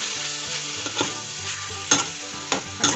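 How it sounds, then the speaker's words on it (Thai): Pork belly stir-fried with red curry paste sizzles steadily in a hot pan, with the scrape and clatter of a utensil stirring at irregular intervals, close and alone without talking. "จากนั้นก็ใส่หมูที่เราลวนไว้ลงไปครับผม ผัดเลยครับผม"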